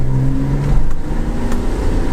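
BMW E46 M3 with a naturally aspirated engine droning at steady revs, a low, rasping tone heard from inside the car, loud and continuous with no talk.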